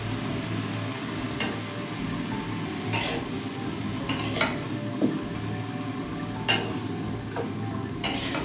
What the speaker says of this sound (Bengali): এবার সব কিছু ভালো করে নেড়ে চেড়ে ভেজে নেব।